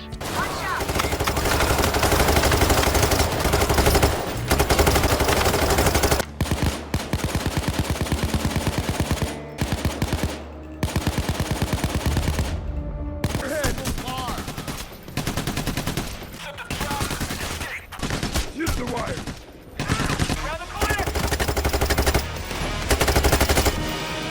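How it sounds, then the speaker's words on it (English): Rapid automatic gunfire from Payday 3 weapons, loud, thin and popping, in long sustained bursts with brief pauses between strings of shots, close and continuous. "every time I take a shot, it feels like I'm firing a BB gun"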